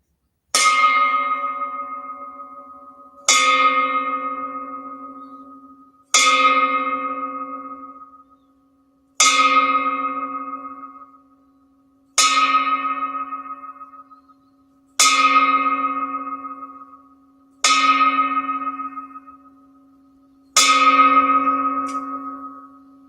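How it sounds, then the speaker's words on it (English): Eight bells ring out one after another as a memorial tribute, each a clear metallic strike that fades slowly before the next, evenly spaced with no voices. "I personally am giving Carol, Chaos Carol, her 8 bells towards Fiddler's Green"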